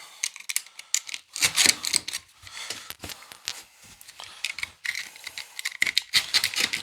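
A sharp knife slicing through a rug pad, with quick scratchy, crackling cuts in irregular bursts, close and moderately loud, no voices.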